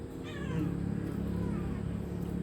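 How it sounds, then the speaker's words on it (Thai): A cat meows at a home mealtime where it is fed dry kibble, one clear drawn-out meow rising early over a low steady background hum. "แมวกินอาหารเม็ดนะแมวมันจะมา"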